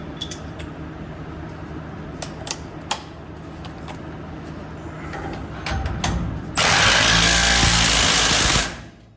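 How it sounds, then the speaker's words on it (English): Impact wrench with a deep socket tightening lug nuts on a GMC, quiet clicks and tool handling first, then one loud sustained two-second burst of rattling hammering up close. "Now put your deep socket on and just crank them on with impact."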